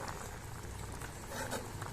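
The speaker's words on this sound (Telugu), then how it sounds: "మన ప్రాన్స్ కర్రీ ఉడుకుతుంది చూడండి." Prawn curry simmering in a pot, a steady close bubbling and patter of boiling liquid that continues without pause and without talk.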